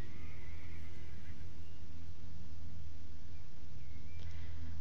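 A horse in the online riding game Star Stable whinnies, a bright neigh heard faintly over a steady low game hum and ambient background, with no voices.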